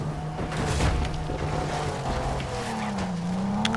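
A car crashes and explodes in the Just Cause 3 video game, with a droning engine, screeching tires and booming impacts layered together for about four seconds, no voices.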